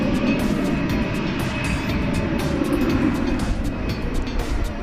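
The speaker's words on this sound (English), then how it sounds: "An Airbus A380, flight 2863. American Airlines." An American Airlines Airbus A380 at DFW Airport at night makes a continuous, even jet roar across the runway, heard steadily throughout without distinct peaks.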